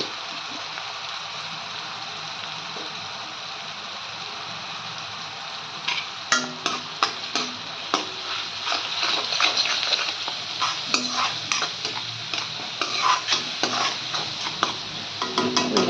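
Masala roasting in a pan before pasta goes in: a steady low sizzle for the first few seconds, then brisk, irregular scraping stir strokes crackle over the frying, close and fairly loud, with no talking.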